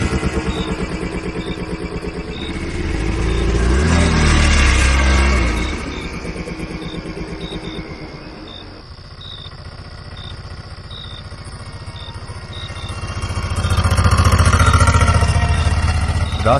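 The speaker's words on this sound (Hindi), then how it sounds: "ऑटो में बैठते ही राजू भाई ने चुपचाप इंजन स्टार्ट किया" An auto rickshaw engine runs with a steady clattering putter that swells loudly as it pulls away, eases to a lower drone, then revs up again near the end, heard close with no speech.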